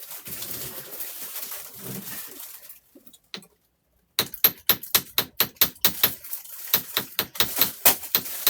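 Sharp metallic taps from a small hammer striking jewelry wire for an earring hook, about a dozen quick blows in an uneven rhythm after a brief quiet pause, close and fairly loud.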